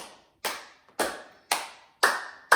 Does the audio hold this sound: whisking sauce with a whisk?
no